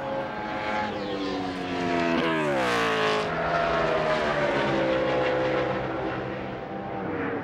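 Ryan Newman's NASCAR race car roars loud and close on a pole qualifying lap, a continuous engine howl whose pitch swoops up and down as it charges through the corner.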